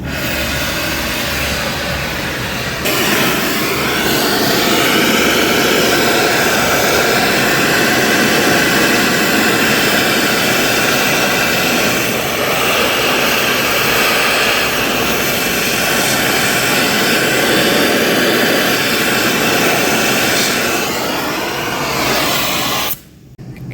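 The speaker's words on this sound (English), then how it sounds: "Rumor has it you can just hit that with a torch and the race will fall off" A torch heats the rear wheel bearing race of a Mazda RX7 FD3S, a loud, steady roaring blast that holds for about twenty seconds before cutting off abruptly.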